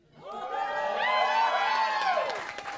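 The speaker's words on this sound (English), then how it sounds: "we don't have enough time to this much applause for everybody" A wedding crowd cheers, whoops and claps for the bridal party, the noise swelling quickly and holding steady before fading.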